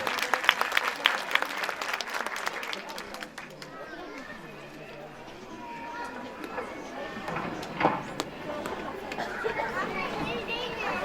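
Brief clapping from an audience at a children's Quran course event for four-to-six-year-olds, quickly fading under children's chatter, movement and talk in a busy hall.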